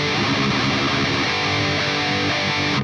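Heavily distorted electric guitar playing the intro riff of a death metal track, a thick, continuous wall of saturated tone at steady loudness.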